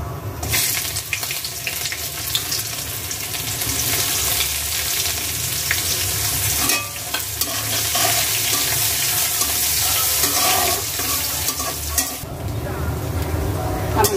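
Onion and garlic frying in a pan with dried chillies, a loud, continuous close sizzle with stirring and brief breaks where the crackle dips, while a voice talks in places.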